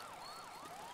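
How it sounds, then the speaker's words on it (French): Police sirens wail in a video game, a single rising and falling siren tone sweeping steadily under a constant noisy background, fairly distant and without voices. "On entend les sirènes."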